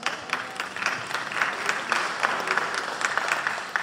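An audience at a lecture in Brooklyn, NY applauds, producing dense, steady clapping that holds at an even level for a few seconds.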